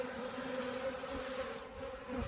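Honey bees from a nucleus colony with a drone-laying queen buzz steadily around a hive frame, a dense continuous hum with no talking.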